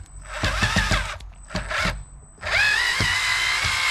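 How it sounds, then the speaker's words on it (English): A power drill or screwdriver works a door trim screw on a 2013-2018 Toyota RAV4, in several short close bursts with pauses, then a longer steady whir at the end. "Loosen this screw."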